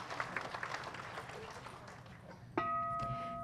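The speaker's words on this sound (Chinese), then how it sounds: "让我们以热烈的掌声感谢圣尊主坛这么殊胜珍贵的护摩" Soft, distant audience applause at a Buddhist homa fire ceremony, a steady patter that fades, then cut off by a sustained ringing tone near the end.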